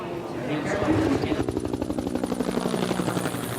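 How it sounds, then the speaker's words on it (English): A military helicopter flies toward the African coast with a rapid, steady rotor thump that pulses quickly and evenly, loud and close, as a voice talks over it. "The helicopter was nearing the African coast as Dillon briefed his troops."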